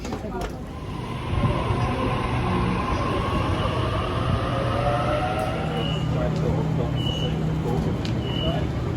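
A Sydney train bound for Central rumbles and rolls in steadily at platform 1 with mechanical rattling and a faint high squeal, surrounded by ambient platform noise.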